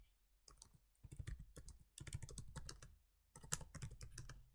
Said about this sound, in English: just typing in his name, Tommy Oliver, gives you 59